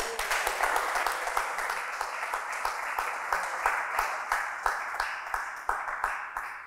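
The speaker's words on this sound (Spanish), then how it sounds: "Dale un aplauso a Dios." Church congregation clapping together in a steady, fairly rhythmic applause, moderately loud and close, with faint voices under it.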